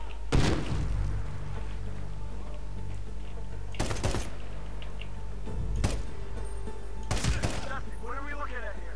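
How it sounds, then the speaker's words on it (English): Gunfire from the video game Medal of Honor Warfighter: several loud, heavy shot bursts spaced a couple of seconds apart over a steady low combat rumble, with brief voices near the end. "We're taking fire."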